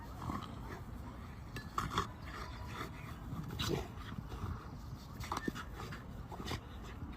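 Dogs play-fight close by, with short growls, whimpers and panting over scuffling. The sounds come in quick, irregular bursts at fairly low volume.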